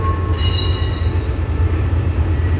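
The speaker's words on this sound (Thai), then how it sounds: "มาตรงสวนตอนนี้ก็จะเห็นรถไฟนะครับ" A Thai express passenger train rolls past close by with a steady heavy rumble and rattling wheels, a thin high squeal ringing over it.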